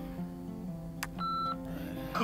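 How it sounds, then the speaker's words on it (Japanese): A voicemail answering-machine beep sounds in the video game Life Is Strange, a short clean electronic tone over a soft steady synth background, with a brief higher chirp before it and a faint electronic blip just after. "留守番電話。"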